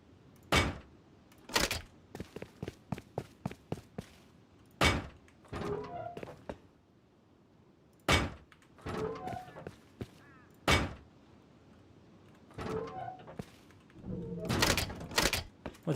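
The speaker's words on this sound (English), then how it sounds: "Then put in your doors." Doors being placed in the video game Rust, heard as a series of sharp, loud thunks and clacks spaced irregularly, some in quick clusters, with softer clattering building sounds between them.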